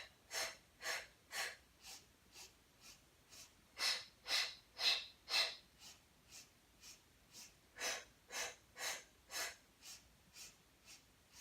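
Slow, deep diaphragmatic breathing during an abdominal workout, a series of rhythmic airy inhales and exhales at close range, some louder and harsher than others, with no talk.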